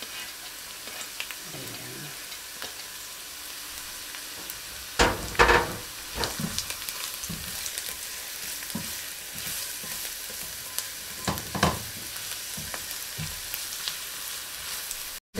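Garlic sizzles in oil in a pan as it fries, a steady close hiss with a burst of scraping stirs midway and a few more later, and a voice briefly speaks.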